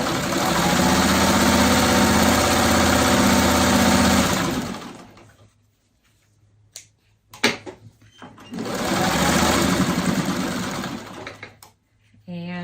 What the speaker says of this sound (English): We're going to take one of these pieces and sew that to the top.